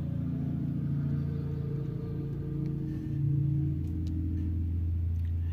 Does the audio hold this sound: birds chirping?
no